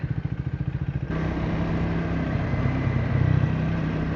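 A Triumph modern classic motorcycle rumbles with a pulsing idle-like chug, then shifts into a sustained engine-braking drone with a thin, siren-like whine riding over it, close and fairly loud.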